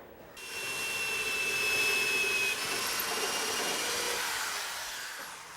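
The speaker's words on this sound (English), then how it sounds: "that seems to be the toughest part of the job so far, is drilling those bottom holes" A drill boring holes through two stacked layers of sheet metal on a round-tube race car front end, a loud steady whine with grinding and hiss that holds for several seconds, close by and alone.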